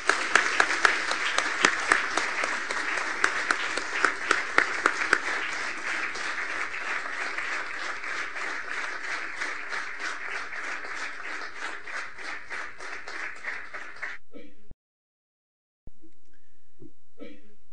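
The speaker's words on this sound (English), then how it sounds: "Please welcome Dr. Stanton. Warm applause." Warm, dense applause welcomes a speaker at a formal speech event. The clapping starts loud with sharp individual claps, thins gradually, stops abruptly after about fourteen seconds and gives way to near silence.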